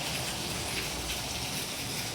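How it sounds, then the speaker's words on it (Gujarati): Steady rain falls outside during a downpour, a dense, even hiss of drops drumming on surfaces, constant and moderately loud throughout with no voices. "બહાર તો વરસાદ આવે જ છે"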